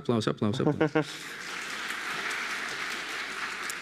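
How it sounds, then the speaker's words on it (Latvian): Audience applause breaks out at an autism-practice event after a short burst of talk, then a steady wash of clapping from the crowd continues evenly to the end. "aplaus"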